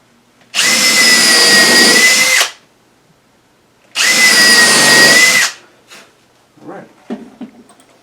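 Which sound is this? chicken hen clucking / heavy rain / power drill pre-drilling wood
power drill pre-drilling wood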